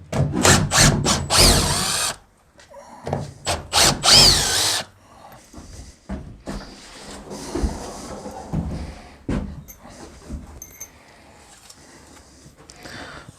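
A power drill backs screws out of a wooden shed door frame so it can be reshimmed, with two loud bursts of whirring followed by quieter scraping, handling and knocking sounds close by.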